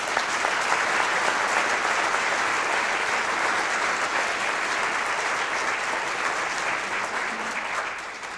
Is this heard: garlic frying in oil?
no